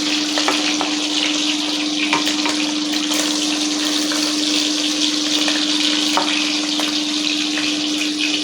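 Tangra fish frying in a pan of oil, a steady close sizzle with scattered sharp pops and crackles over a constant low electrical hum, no voices.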